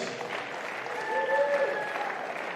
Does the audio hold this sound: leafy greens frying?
no